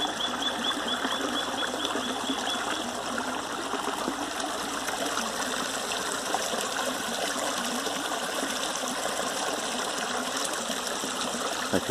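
A forest creek runs steadily beside a big fallen tree used as a crossing, its broadband rushing and trickling water holding an even level throughout, with no voices.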